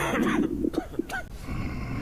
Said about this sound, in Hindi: ये छींकेगा, हिचकी लेगा, खांसी ले रहा है।